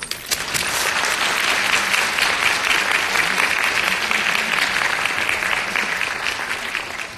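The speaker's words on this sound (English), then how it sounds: "We'd like to acknowledge you, all of you, with a round of applause." A full room at a county schools social studies fair and National History Day awards ceremony gives students a sustained round of applause, dense, loud and steady for about seven seconds before easing slightly at the end.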